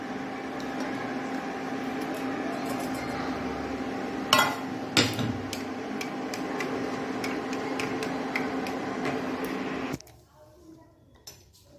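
Freshly boiled coffee poured from a pan, a steady splashing hiss lasting about ten seconds with a couple of sharp clinks, then stopping abruptly.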